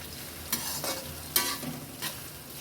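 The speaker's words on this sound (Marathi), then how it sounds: "बघा आता आपला कांदा छान झालेला आहे, लाल पण आला." Onions frying with salt in a pan, a soft steady sizzle close by, with a few light scraping stirs cutting through it and no voices.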